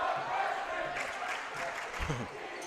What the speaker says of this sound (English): Hear that student crowd?